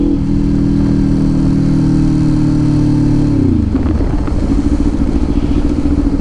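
Up close, a Kawasaki Ninja 500 with an SC Project open-pipe exhaust holds a loud, high, steady rev. After a few seconds the revs drop sharply and it settles into a rough, loping idle.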